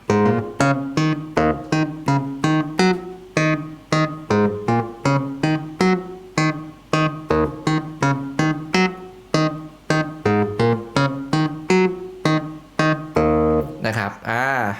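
A keyboard plays a repeating, punchy funk bass line, short staccato notes in a tight, syncopated rhythm, clear and upfront with no voices.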